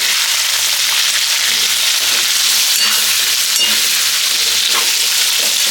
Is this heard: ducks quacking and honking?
no